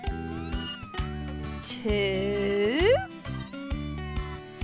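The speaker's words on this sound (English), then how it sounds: "Three beautiful kittens." Newborn kittens meowing in a cartoon, a drawn-out rising mew over background music, with brief speech around it.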